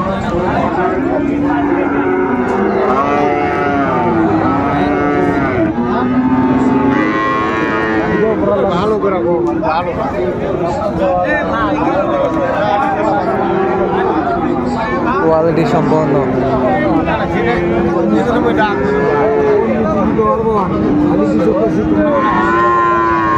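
Friesian and crossbred bull calves moo repeatedly at a busy Dinajpur cattle market, several loud, drawn-out calls overlapping across the scene while people talk and bargain close by.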